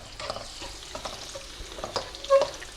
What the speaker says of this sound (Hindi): इसको मैं थोड़ा फ्राई करूँगी।